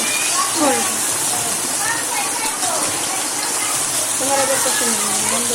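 Dried fish frying in oil with onions crackles and spatters steadily like rain on a surface, while someone talks over it throughout.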